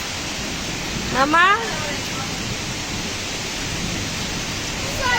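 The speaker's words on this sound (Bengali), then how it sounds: "হঠাৎ করে প্রচুর বৃষ্টি হচ্ছে, ঝড় যে বাতাস হইতেছে" Heavy rain during a storm with strong wind, a steady loud hiss of downpour throughout, with a voice briefly calling out near the start and again at the end.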